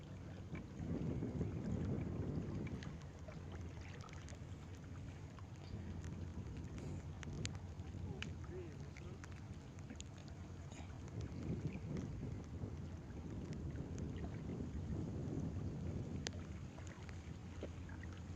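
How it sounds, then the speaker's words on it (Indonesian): Light drizzle on a fishing spot at the water's edge, a soft steady wash of rain with low rumbling swells, continuous and moderately loud throughout, no voices. "Wah, gerimis mantep."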